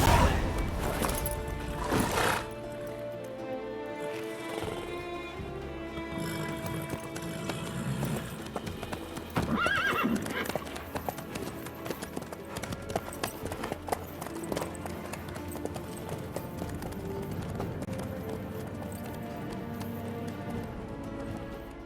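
Horse hooves clip-clop in a steady, continuous rhythm for over twenty seconds, with some louder knocks and a busy background behind them.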